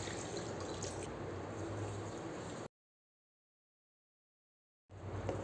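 Water pours steadily into wheat flour dosa batter in a mixing bowl, a soft, continuous trickle that stops abruptly, falls silent, then resumes briefly.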